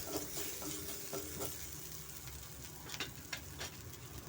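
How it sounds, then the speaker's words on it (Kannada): A little oil frying in a pan for Kannada-style amla chitranna, soft steady sizzle with scattered clicks and scrapes of stirring, fairly quiet and close, no talking. "ಸ್ವಲ್ಪ ಎಣ್ಣೆಯಲ್ಲಿ ಸ್ವಲ್ಪ ನಾವು ಫ್ರೈ ಮಾಡ್ಕೋಬೇಕಾಗುತ್ತೆ"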